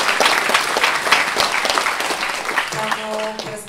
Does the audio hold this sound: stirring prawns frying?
no